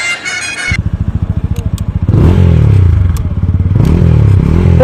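An Apache RTR motorcycle starts with a pulsing idle thump, then revs up into a loud, close engine drone that rises and falls as it rides off.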